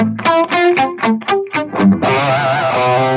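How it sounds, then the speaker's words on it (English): Distorted electric guitar plays a tight, palm-muted arpeggiated riff of rapid separate plucked notes, then shifts to sustained crunchy chords, loud and close with no talking. "now I've got some distortion. I'm using some palm muting to like keep it tight."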